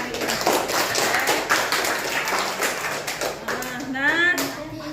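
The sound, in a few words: class clapping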